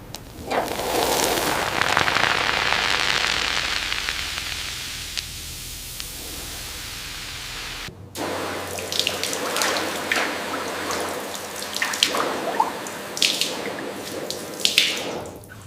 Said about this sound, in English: The liquid slowly saturates the corrosion.